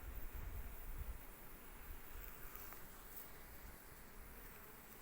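Steady dense buzzing of many honey bees, close and continuous, with no voices.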